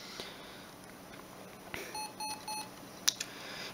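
A Siemens M65 mobile phone confirms power-on with short electronic beeps: three brief evenly spaced tones, then a sharper high chirp, close and quiet against a faint hiss.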